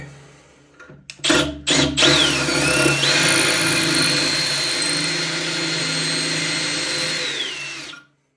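A power screwdriver drives a screw back into a bath tap part, starting with a few short bursts and then settling into a steady, fairly loud motor whine whose pitch dips and rises before it cuts off.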